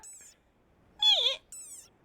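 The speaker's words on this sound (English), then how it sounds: "Like this desert rain frog." A desert rain frog gives a few short, high squeaky calls, three separate bursts with a loud middle squeak, close and alone against quiet background.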